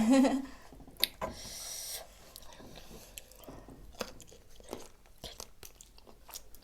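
Someone chews a mouthful of shrimp wrapped around egg yolk cured in fish sauce, close and wet, with soft squishy bites, a few crunchy snaps and breathy murmurs between chews.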